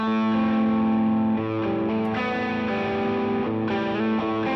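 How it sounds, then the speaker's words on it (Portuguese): Electric guitar played through a pedalboard with hall reverb added for a natural room sound, sustained chords and single notes ringing loud and continuous with a wide, spacious distorted tone. "E aí eu somo esse reverb aqui"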